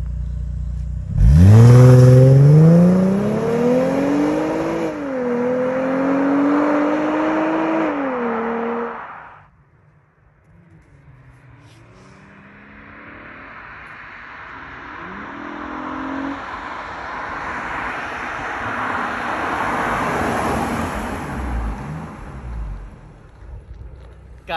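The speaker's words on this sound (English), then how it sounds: "that's one of the best sounding V6s I've ever heard." A Mercedes-Benz SL 350 R230 with a V6 engine revs hard under acceleration, pitch climbing through gear changes, then eases off and builds again in a steady, close drone while driving.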